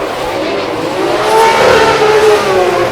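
A drift car at a Sochi qualifying round accelerates at full throttle with a loud, sustained engine roar that swells toward the middle and holds steady.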